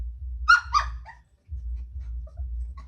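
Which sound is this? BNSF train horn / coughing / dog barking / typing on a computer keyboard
dog barking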